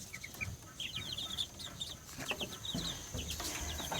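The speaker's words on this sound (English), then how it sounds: "I've got a little batch of Easter egger chicks in here" Easter Egger chicks in a brooder on a farm give repeated high peeps and small chirps, with a few soft clucks, close by over a steady low hum.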